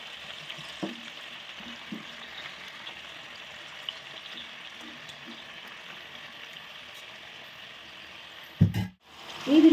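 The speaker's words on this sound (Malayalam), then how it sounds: "ആദ്യം ഈ മസാല പുരട്ടിയ ചിക്കൻ ഒന്ന് വറുത്തെടുക്കണം." Masala-coated chicken pieces frying in a pan for pepper chicken, a faint, steady hiss of oil with occasional soft pops, then a louder clatter and bump near the end.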